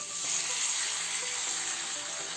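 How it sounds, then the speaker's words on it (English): Tomato puree hitting a hot pan, a bright continuous sizzle and hiss that stays close and fairly even for a couple of seconds, with no talk. "Now add tomato puree."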